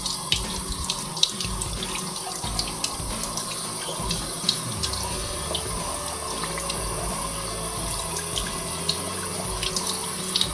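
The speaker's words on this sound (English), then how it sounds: "So this is the tap that we will use for this testing purpose. Let's just start it." Tap water runs steadily onto a Samsung Galaxy Z Fold6 phone, a loud continuous splashing hiss with no pauses and no voices.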